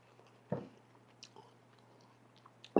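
Close chewing of a bite of sauerkraut, ground beef and noodle casserole, with a soft bite near the start, then quiet mouth sounds and a sharper sound at the end.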